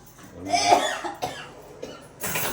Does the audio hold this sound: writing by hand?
no